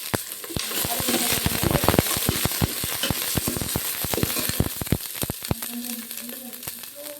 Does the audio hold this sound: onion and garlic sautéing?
yes